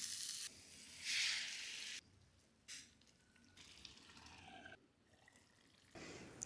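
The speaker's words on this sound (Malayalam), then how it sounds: "ചിക്കൻ വേവാൻ ആവശ്യമായ ചൂടുവെള്ളം ഒഴിച്ച് ചിക്കൻ വേവിച്ചെടുക്കാം" Hot water poured into a pot of simmering chicken curry, a bright gushing splash followed by softer bubbling and sizzling, near and fairly quiet, with no talking.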